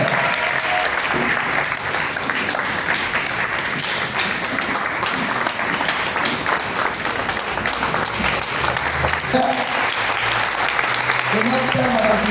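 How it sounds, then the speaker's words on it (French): A church congregation at a faith seminar applauds: dense, continuous clapping fills the whole stretch, with shouted acclamations and voices mixed into the crowd noise. "tiens-toi debout et acclame le Seigneur"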